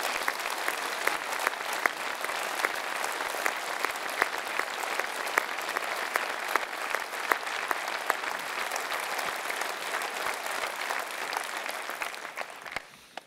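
Sustained audience applause at a mayor's New Year's address in Voiron, France: dense, steady clapping from a large indoor crowd holding at an even level for about twelve seconds, then tapering off at the end.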